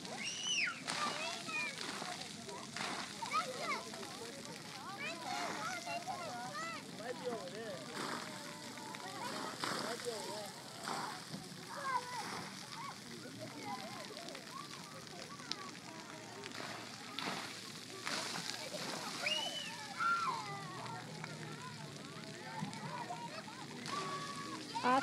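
Children playing and splashing in water on a school field trip, with a continuous, fairly faint wash of sloshing and splashes mixed with distant shouts and chatter spread across the outdoor scene.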